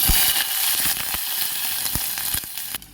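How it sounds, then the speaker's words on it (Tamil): Mustard seeds hiss and crackle steadily in hot oil, with scattered sharp pops over a bright, constant sizzle, close up and with no talking. "தாளிக்கிறதுக்கு வந்து கடுகு போட்டுக்கலாம்"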